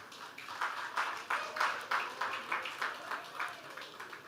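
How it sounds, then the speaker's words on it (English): An audience at a BRICS Parliamentary Forum session in 2023 applauds its speakers, giving steady, rhythmic clapping that swells in regular pulses at moderate loudness with no voices over it. "A big round of applause for all our speakers."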